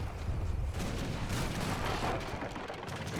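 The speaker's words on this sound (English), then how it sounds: "Mortar destruction just everywhere." Mortar fire from the real-time strategy game Age of Empires III during a 2v2 battle, dense overlapping booms and blasts that roll together into a continuous loud rumble with no talk.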